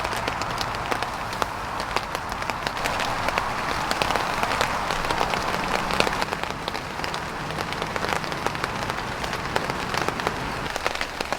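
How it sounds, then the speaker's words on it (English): Steady rain patters on a tarp in woodland, a dense, even drumming of drops with occasional louder taps that continues unbroken throughout. "So a little bit later than I expected, but we have the rain."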